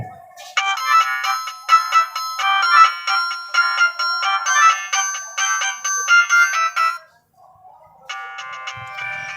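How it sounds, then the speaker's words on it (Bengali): A button phone plays a bright, beeping electronic ringtone melody in quick repeated notes, pauses briefly, then a different tone begins. "আমি কিন্তু ফোনের রিংটোনের সাউন্ডটা এটা একটু বরাবর মতো চেক করব"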